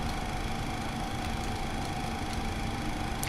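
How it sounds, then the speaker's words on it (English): A Boeing 737-300 engine spools up in a flight simulator game, a steady loud whining hum with a constant low drone and no voices. "Let's go ahead and continue to start our engines."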